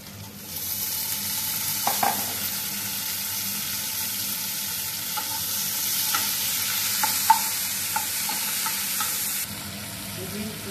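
Two medium tomatoes land in a hot pan for dahi kadhi, a loud continuous sizzle broken by scattered clicks and scrapes of stirring, ending more quietly.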